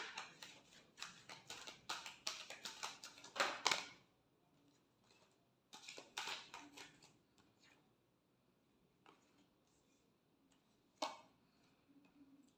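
Tarot cards being shuffled by hand, quick bursts of soft riffling and tapping clicks in two main runs, then a few scattered taps at close range with no talk.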